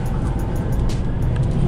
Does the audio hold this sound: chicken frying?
no